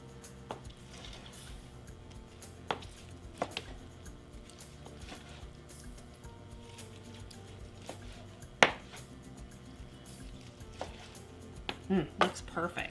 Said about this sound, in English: now we slice them up